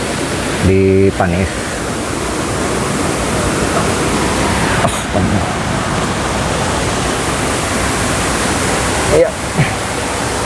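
Curug Paniis waterfall in Sumur, Pandeglang, roaring as a steady broadband rush throughout, with people talking briefly over it and a few short knocks and handling bumps nearby.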